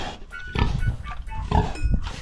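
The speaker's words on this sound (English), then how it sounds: "There's only 2 pigs right now." Pigs grunting at a new house in Mexico, a pair of animals giving repeated close, loud grunts and snorts in bursts, with no talk over them.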